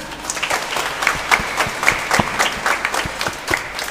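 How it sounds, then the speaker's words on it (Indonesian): A group claps in unison, loud and close, a sustained round of applause with crisp, fairly regular hand claps. "Tepuk tangan."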